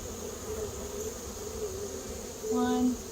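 Bees buzz steadily in a low hum, with a louder, closer buzz swelling near the end.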